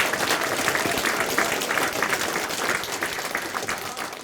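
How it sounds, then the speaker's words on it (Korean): Township residents at a Korean county town-hall meeting give a big round of applause, a dense steady roar of many hands that stays loud throughout, with no voices over it. "우리 면민들께서 군수님과 공무원 우리 의원님들께 큰 박수를 한번 쳐줬으면 좋겠습니다."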